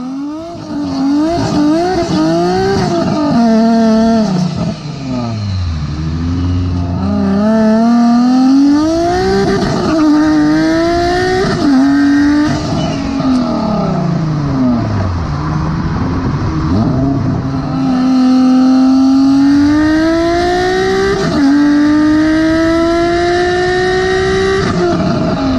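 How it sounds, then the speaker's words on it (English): Car engine with rear-mounted turbos revving hard and loud, close by, pitch climbing and falling repeatedly through strong harmonic sweeps with turbo whistle over about twenty-five seconds. "How rear-mounted turbos sound."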